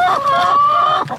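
A chicken in a backyard coop with roost bars gives a single close, loud, drawn-out clucking call lasting about a second.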